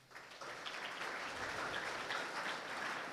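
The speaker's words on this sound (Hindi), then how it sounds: "मेरी बेटी के लिए ताली बजाओ इसके लिए एक बार" An audience at Vishnu Vidhya Niketan school in Jaipur applauds a girl, steady dense clapping that rises quickly and holds for about three seconds, fairly distant.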